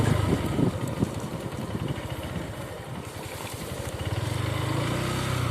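Motorcycle ridden over a damaged narrow road along rice fields, wet from puddles, its engine a steady close putter with rough bumping and rattling, no talk.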